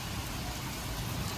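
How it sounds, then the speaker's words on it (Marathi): Heavy rain pours down like a cloudburst, a brief, dense and steady roar of water with no gaps. "ढगफुटी सारखं वाटतंय. पाऊस कसा पडत आहे"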